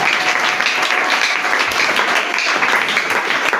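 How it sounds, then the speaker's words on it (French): A crowd applauds steadily, dense clapping filling the whole stretch at close range with no pauses. "Est-ce qu'on peut une fois de plus applaudir?"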